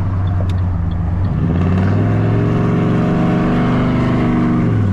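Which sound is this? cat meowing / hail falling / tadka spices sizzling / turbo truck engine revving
turbo truck engine revving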